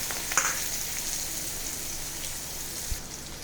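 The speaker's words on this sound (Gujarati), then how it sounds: "હવે આપણે તેમાં મૂળા અને તેની ઝીણી સમારેલી ભાજી છે તે નાખીશું." Radish pieces and finely chopped radish greens hit hot oil seasoned with asafoetida, giving a soft, steady sizzle with a brief crackle near the start, fairly faint and without talk.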